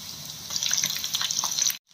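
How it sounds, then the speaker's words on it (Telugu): Chicken pieces, cut small, fry in hot oil with a dense, steady sizzle and fine crackle, close and fairly loud, cutting off abruptly near the end. "ఆయిల్ హీట్ ఎక్కింది, చికెన్ ఫ్రై చేసుకుందాం."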